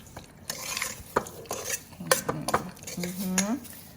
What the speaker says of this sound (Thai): คนให้เข้ากันนะคะ